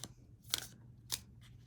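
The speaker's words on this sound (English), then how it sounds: "And this is a good way to mix up and shuffle your cards." Tarot cards being cut and shuffled by hand: two crisp riffling bursts half a second apart, then a fainter third, close and quiet over a low steady hum.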